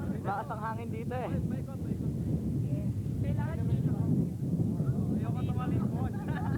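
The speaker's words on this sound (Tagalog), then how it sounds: "Lakas ang hangin dito eh." Strong wind buffeting the microphone with a constant low roar, while people talk over it.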